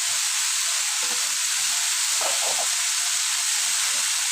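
Long beans frying with dried fish in a pan, a loud, steady sizzle with soft scraping and stirring clatter underneath, close and continuous.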